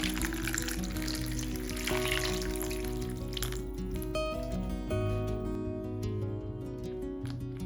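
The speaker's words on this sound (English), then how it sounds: "Then rinse them well under running water and dry them with a kitchen towel." Tap water runs over lemons being rinsed in a kitchen, a steady splashing flow with faint clinks under gentle background music.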